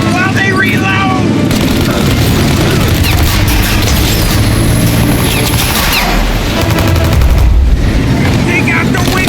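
Gunfire in the video game Mafia: Definitive Edition, with loud continuous shooting and booming blasts in a dense, busy mix of effects.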